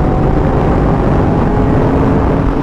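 A Yamaha R1 sport motorcycle engine at high RPM gives a loud, steady, dense roar as the bike rides at speed, with wind rush blended in.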